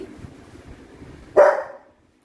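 A pet Labrador barks once, loud and close, a single sharp bark with a brief tail, after a stretch of low background murmur.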